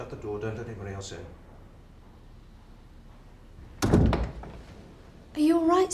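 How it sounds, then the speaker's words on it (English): A door thuds shut in a film scene set in an office, one solid close slam midway through, with people talking before and after it. "Shut the door, don't let anybody else in."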